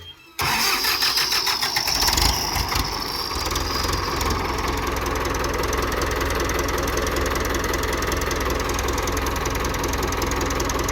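A car engine cranks and starts, then settles into a loud, steady idle with a rough, knocking rumble, heard close and alone for about ten seconds.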